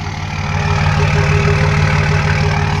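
A Cummins 5.9 H.O. diesel with a 4-inch straight-pipe exhaust idles warm, giving a loud, steady, throbbing rumble with a fine regular knock that holds evenly throughout, with no voices.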